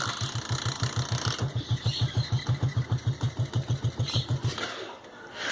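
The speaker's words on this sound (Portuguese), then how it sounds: "dá pra vocês escutar o barulho do motor, do escapamento" A small 75 cc Shineray Phoenix motorcycle engine running on ethanol sputters with fast, even chugging pulses for several seconds as it struggles to start, then cuts out.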